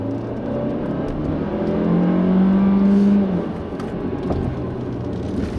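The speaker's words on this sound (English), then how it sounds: "This car accelerates with authority, and I do like how quickly the dual-clutch transmission" A 2016 Kia Optima LX Turbo sedan with a dual-clutch transmission accelerates hard, its engine note climbing steadily, then dropping abruptly at a quick gear shift before pulling again, heard from inside the car without talk.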